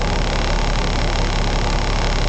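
Engine of a tender truck with an automatic transmission running steadily, a loud, constant close-up drone and rumble with no pauses or talk.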